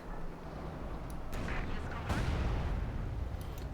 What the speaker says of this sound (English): Mortar firing down direct here on the Panther 4 here